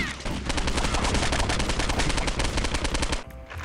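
Sustained automatic gunfire from armed protesters in the video game Postal 2, a dense rapid burst of shots lasting several seconds before cutting off abruptly near the end.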